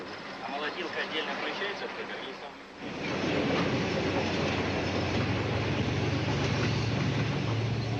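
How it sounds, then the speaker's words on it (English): A private train on rails near the railway station at Mineralny Vody, in the Stavropol region of the Soviet Union. A steady, loud rolling rumble swells in after a few seconds and continues, with faint voices underneath at the start. "Brezhnev's private train stopped here, at the railway station of Mineralny Vody"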